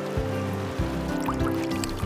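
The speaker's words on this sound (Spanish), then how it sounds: "No me dejo de sorprender con estas aguas que fluyen en el medio del desierto" The San Pedro river runs through the Atacama desert near San Pedro de Atacama, a steady close wash of flowing water with a constant low rumble underneath.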